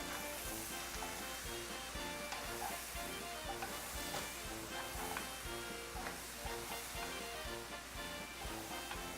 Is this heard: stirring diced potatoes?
yes